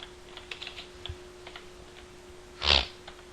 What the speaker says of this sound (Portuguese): vou digitar aqui o resto do código